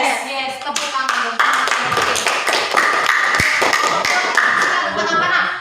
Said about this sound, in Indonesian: Yes, yes, tepuk tangan.